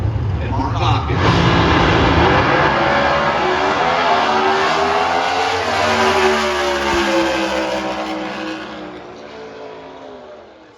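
Drag race cars, including a 1996 Dodge Avenger, roar down an NHRA strip, a loud close engine blast that builds, holds and then fades away as the run ends, with an announcer talking over it.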